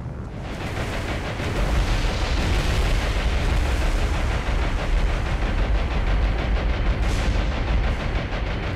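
B-17 bombs striking in War on the Sea arrive as a sustained, heavy, rumbling roar of explosions that swells early and stays loud and dense throughout, with no speech.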